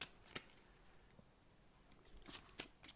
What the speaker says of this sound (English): So you just shuffle the discard pile, all the cards